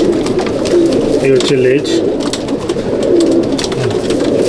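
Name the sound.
pigeon cooing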